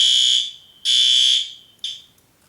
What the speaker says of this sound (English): Yeah, just fire alarm.